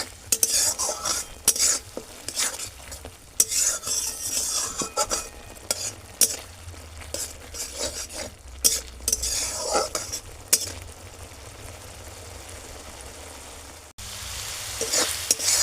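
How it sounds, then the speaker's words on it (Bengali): Tomato paste fries in a pan for egg pepper fry, stirred vigorously with a metal spoon, so repeated clanks and scrapes ring over a constant sizzle, close and fairly loud, with a brief pause near the end. "টমেটোর পেস্টটা দিয়ে কিন্তু একটু ভালোভাবে এটাকে নাড়তে হবে।"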